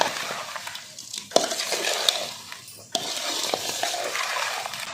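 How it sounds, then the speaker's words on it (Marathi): Thick mango pickle being stirred and mixed in a pot, a steady close scraping and sloshing with a few sharp clinks of the spoon against the vessel. "हे पहा लोणचं छान असं मिक्स करून झालेलं आहे"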